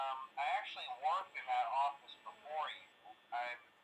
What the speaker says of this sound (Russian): Нам что-то говорят там по телефону.